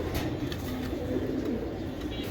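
Racing pigeon from a BRPFC club loft, cooing in a low, steady warble that rolls on through the whole stretch at moderate closeness over a constant background hiss, with no one talking.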